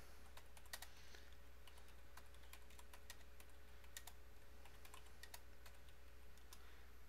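Computer keys click in scattered short bursts, faint and close over a low steady hum, with no voices.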